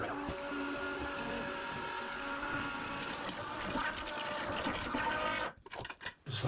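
Water rushing into a toilet bowl in a steady, hissing flush that runs for several seconds before breaking into a few gurgling splashes as it tails off, moderately quiet and close.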